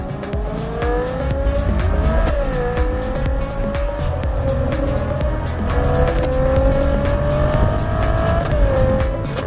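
A powerful Ferrari V12 engine producing 810 horsepower, in a car with no roof or windscreen, roars steadily for the whole stretch, its pitch climbing and dipping as it revs through gears, loud and close.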